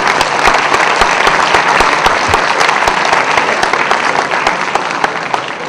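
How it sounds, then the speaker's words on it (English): Sustained applause from a lecture audience, loud and dense clapping that carries on steadily before tapering slightly near the end. "A round of applause is in order to all of you."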